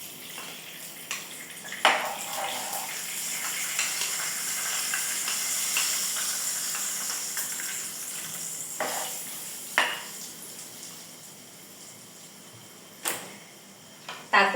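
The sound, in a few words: spice mix sizzling as it is poured into hot oil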